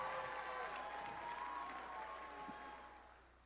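An event audience at a FIRST FRC robotics district competition in Alexandria applauds the teams, a broad, sustained clapping that slowly fades over a few seconds.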